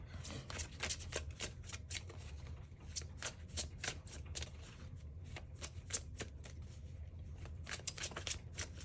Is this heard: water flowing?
no